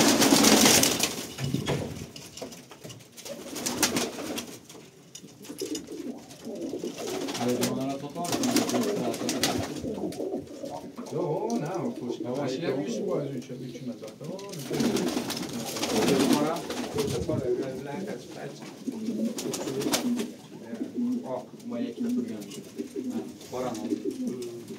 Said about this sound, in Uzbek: Kaptarlar kuchlilar ekan.